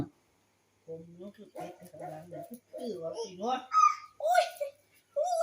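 A young child imitates a dog, producing a string of short, high barking and whimpering sounds in quick bursts, close to the microphone with brief pauses between, mixed with childish vocalising.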